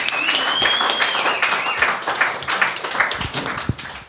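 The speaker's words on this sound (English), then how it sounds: "Guys, give yourselves a round of applause for coming out." A studio audience applauds, a lively burst of clapping that starts full and gradually thins to individual claps by the end, with some whoops and cheers over it.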